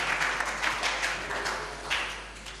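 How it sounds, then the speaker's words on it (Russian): A congregation at a church service applauds, a full, continuous spread of clapping from many people, steady and fairly close, with a low hum underneath and no speech on top. "Воздайте Богу аплодисменты"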